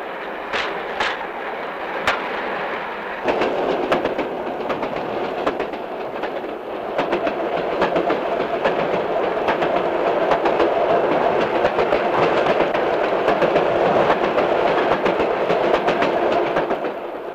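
A train hauling a platform car with a crane rolls along the rails. A steady, loud rumble carries repeated sharp wheel clicks throughout, with no voices.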